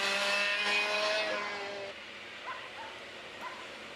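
Race car engines easing off at Llandow circuit during a Daniel Ricciardo Series round, a loud whining drone that falls away, leaving fainter distant engine notes.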